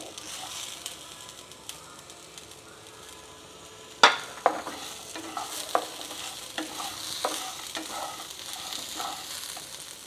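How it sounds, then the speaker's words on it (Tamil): Grated coconut lightly frying in a pan with roasted gram for mint chutney, a soft continuous sizzle broken by sharp clinks and scrapes of a spatula stirring against the pan, close and moderately quiet. "இது கொஞ்சம் அப்படியே லேசாக வறுபடட்டும் தேங்காய் போட்டுக்குவோம்"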